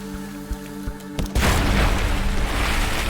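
A shot is fired at a crab in the video game Sunless Sea, a sudden heavy boom that swells into a long rumbling roar after a low droning background with soft thuds.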